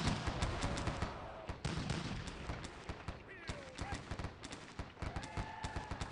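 Gunfire rains on troops in Sid Meier's Gettysburg, a Civil War strategy game: rapid, irregular musket cracks and volleys crowd together close and loud, with a few brief tonal game sounds mixed in.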